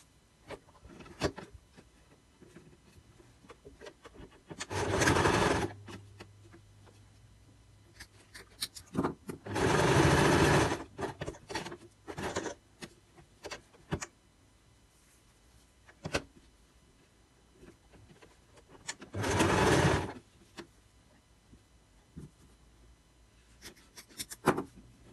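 Sewing machine stitching cotton chintz patchwork pieces in three separate bursts of rapid mechanical whirring, with quiet rustling and handling of fabric in between.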